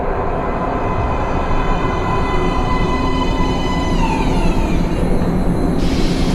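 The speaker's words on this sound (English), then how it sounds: "Please step away from the edge of the platform. Train coming in." A video game train in Metro Last Light Redux rumbles into a metro station with a steady low roar and a high whine that slides downward as it slows.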